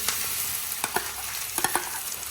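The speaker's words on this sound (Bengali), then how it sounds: "এবার খুব ভালো করে একসঙ্গে ডিমের সঙ্গে মিশিয়ে নেবো সব কিছু" A spoon works through an egg mixture with breadcrumbs and chopped coriander for a burger patty, giving a few soft, close scraping clicks in two short clusters over a steady background hiss.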